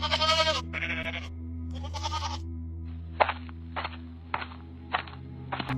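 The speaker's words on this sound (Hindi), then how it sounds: "और ये बकरियां भी काफी शोर मचा रही हैं।" Goats bleat at night, several loud, close cries in quick succession at the start, followed by scattered sharp footstep-like knocks and rustles with no talking.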